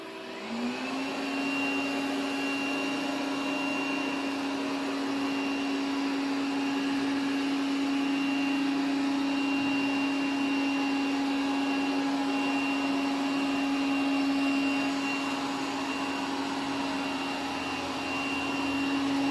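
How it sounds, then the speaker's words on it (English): A vacuum cleaner running steadily and loudly from start to finish, with a constant motor whine and airflow hiss and no talking over it. "you can operate the vacuum cleaner"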